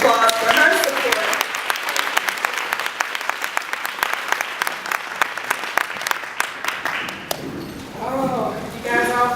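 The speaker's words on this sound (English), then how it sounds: "We want to give her a round of applause for her support." Audience applause at an Urban League of Greater Atlanta morning event, a sustained burst of many hands clapping that fades out, with someone talking over the start and the end.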